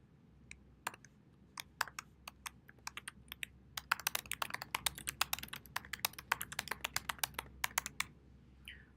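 Keys clatter on a computer keyboard in quick irregular bursts of sharp clicks, close and fairly quiet over a low hum, with no speech.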